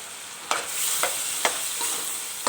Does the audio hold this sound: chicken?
yes